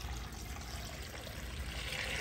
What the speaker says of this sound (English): Just quite a bit of water going in.